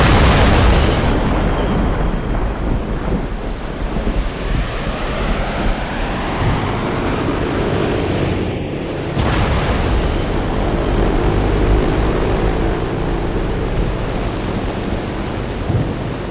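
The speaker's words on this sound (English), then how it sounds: "their C-130 transport crew demonstrates the jet-assisted takeoff" A Navy C-130 transport aircraft makes a jet-assisted takeoff at an air show, a loud continuous roar and rumble that builds and sustains throughout.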